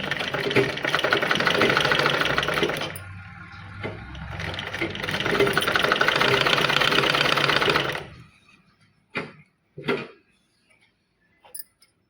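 A domestic sewing machine stitches a fall onto a saree, running in a fast steady whir for several seconds, pausing briefly, then running again before stopping, followed by a few soft clicks and handling knocks.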